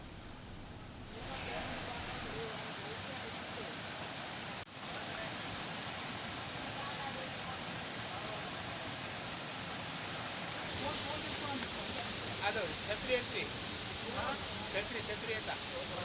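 Rushing water roars continuously from the Sarvepalli (Bugga) waterfall in Komaram Bheem Asifabad, a steady, broadband hiss heard from nearby, briefly dipping once and growing slightly brighter and louder toward the end.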